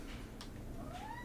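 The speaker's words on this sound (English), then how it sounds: "Sorry if you can hear my cat in the background." A pet cat meows faintly in the background, a short rising cry near the end, under a low steady hum.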